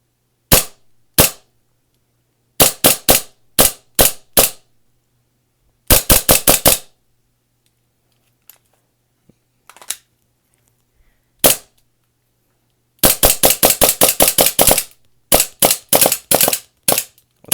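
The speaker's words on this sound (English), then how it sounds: "shooting with green gas mags" Airsoft pistol fed from green gas magazines fires in quick bursts of sharp snapping shots, several rapid volleys separated by pauses, loud and close with no talk.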